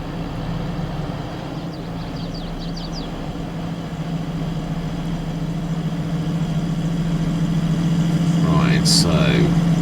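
Tractor engine in Farming Simulator 22, a Challenger model, hums steadily at a constant drone for the whole stretch, rising slightly in loudness toward the end with a brief higher whine near the close.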